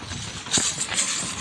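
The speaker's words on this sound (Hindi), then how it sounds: "सुल्तान बादशाह राजा कालिया सब टाइप के घोड़े हैं।" Horses walking along a pilgrimage route to Shiv Khori, hooves clip-clopping in a few quick near steps over steady outdoor background noise.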